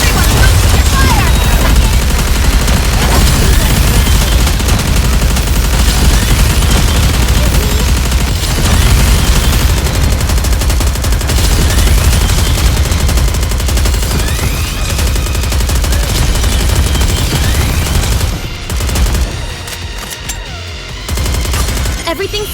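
Continuous heavy gunfire from Goddess of Victory: Nikke roars almost without pause, with overlapping bursts and booming impacts mixed with voiced battle lines, then drops briefly near the end before resuming.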